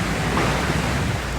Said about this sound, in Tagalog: Bangod sa makusog nga hangin.